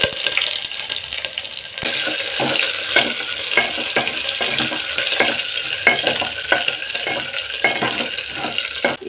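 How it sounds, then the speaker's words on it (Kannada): Mustard seeds, curry leaves, crushed garlic and onion frying in hot oil in a pan, a continuous bright sizzle with scattered spatters and occasional stirring scrapes, close and steady throughout, no voices. "ಈಗ ಎಣ್ಣೆ ಕಾದಿದೆ. ಸಾಸಿವೆನ ಹಾಕೋತಾ ಇದ್ದೀನಿ."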